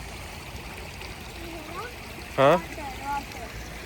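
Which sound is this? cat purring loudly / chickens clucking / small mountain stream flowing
small mountain stream flowing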